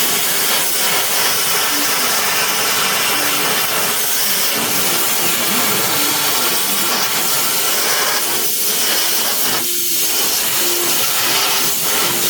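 An airbrush sprays paint onto a 1/60 NeoGrade Sazabi model kit, giving a steady, close hiss of compressed air at raised pressure that runs unbroken throughout, with a couple of brief dips near the end.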